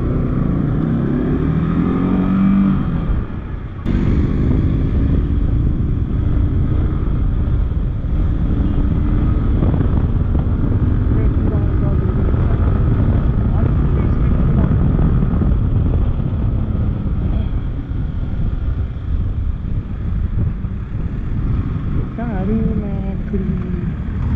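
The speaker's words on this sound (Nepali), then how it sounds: "एयरप्लेन पनि ठ्याक्कै आइदिरहेको क्या" An airplane flies overhead with a loud, continuous engine roar that holds steady throughout, while people talk underneath it.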